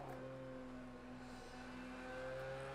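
A faint Porsche race car engine in Project CARS 2 drones steadily at an even pitch, quiet and subdued, with no talking.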